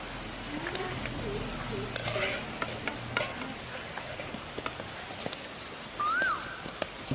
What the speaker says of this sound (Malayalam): നമ്മളെ കോളിഫ്ലവർ ഫ്രൈ ആയി വന്നിട്ടുണ്ട്.